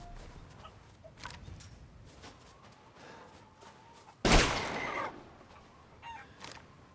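Video-game chickens clucking now and then over a low ambient background in Resident Evil Village's Shadows of Rose, with a sudden loud burst of noise midway.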